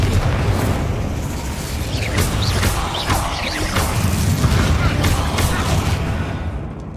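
A fiery Incendio spell bursts out in a wizard video game, a dense, roaring blast of noise filling the whole stretch with crackling pops and booms layered on top, loud and continuous before tailing off at the end.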